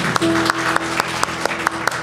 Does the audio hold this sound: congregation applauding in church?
yes